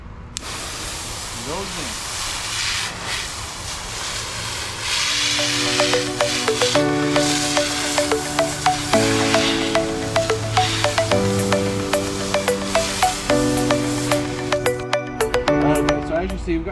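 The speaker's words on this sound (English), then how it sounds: "Got him hosed down." A water hose sprays down a freshly caught stingray at the New Smyrna Intracoastal, making a steady, close rushing hiss throughout, with music entering partway and a brief spoken voice.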